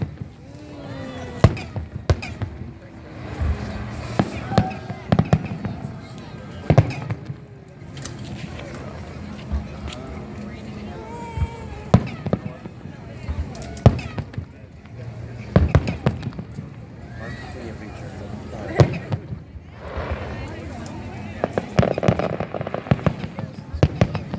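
Kaboom Town 2014 fireworks show, with repeated sharp booms and crackling bursts at irregular intervals, some loud and close, others softer and distant, under a crowd's scattered talk.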